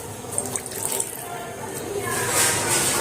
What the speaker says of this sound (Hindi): अभी इसमें पानी भरा जा रहा है।